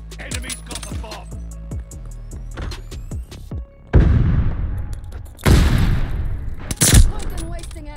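Gunfire from the video game Call of Duty: Vanguard in a Search and Destroy match: a rapid string of sharp, clicking shots gives way to heavy, booming bursts of fire, loud and close.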